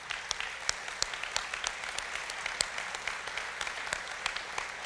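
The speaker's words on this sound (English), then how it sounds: "let's give them a big round of applause for participating in that." Audience at a State of the Nation 2018 gathering applauds internship program participants, a steady, moderately distant round of clapping with crisp individual claps standing out throughout.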